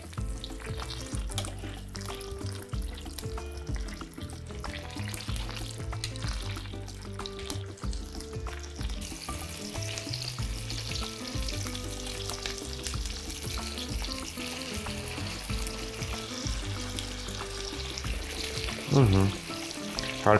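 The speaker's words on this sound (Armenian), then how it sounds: "Մարինացված ազդրամիսը դնում ենք կաշվով դեպի տապակ։" Marinated chicken thighs laid skin-side down in a hot pan: a strong, continuous close sizzle and crackle of frying that runs steadily under soft background music, with a brief clatter near the end.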